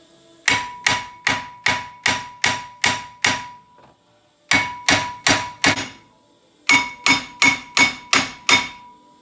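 Sharp metallic hammer blows strike a stuck front brake rotor on a 2005 Volkswagen Jetta TDI in three close, loud bursts of evenly spaced whacks, each ringing briefly, with short pauses between groups.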